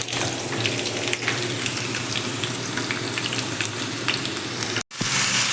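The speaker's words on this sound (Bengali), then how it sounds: "আলুগুলো লাল লাল করে ভেজে নেব।" Potatoes fry to a reddish brown in a pan in a kitchen in Saudi Arabia, a dense, even sizzle that continues close and loud, cut by one brief silence just before the end.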